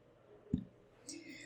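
A single crisp computer mouse click sounds near the middle, used to approve a crypto token swap of Dentacoins from Optimism to Ethereum Mainnet, followed by a faint soft rustle against quiet room noise.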